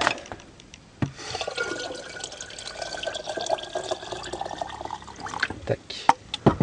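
Spring water poured into a container while preparing kefir, a steady liquid trickle with small drips and splashes running under a speaking voice throughout.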